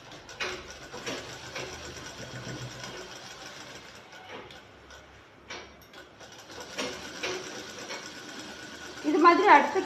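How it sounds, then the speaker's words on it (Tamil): Sewing machine stitching close to the outer edge along a shirt sleeve seam, sewing in steady runs with short pauses. Someone speaks quietly over it. "வெளிப்பக்கமாக ஓரமாக தைக்கிறோம்."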